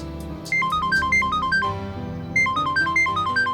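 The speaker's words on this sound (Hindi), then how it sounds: "डीसीपी सर का फोन।" Electronic phone ringtone in a Hindi crime drama scene, a repeating melodic chime in two bursts separated by a short pause, loud and clear with no talking.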